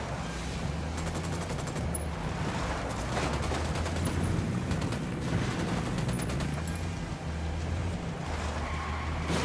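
Sustained gunfire in the Ghost Recon Wildlands video game, rapid machine-gun bursts rattling continuously over a low engine-like drone, fairly steady in loudness.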